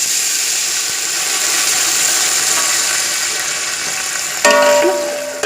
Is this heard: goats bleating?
no